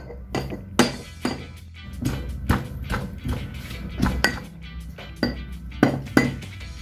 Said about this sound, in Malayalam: കുറേശ്ശെ ഉള്ളി എടുത്തിട്ട് നമുക്ക് ചതയ്ക്കാം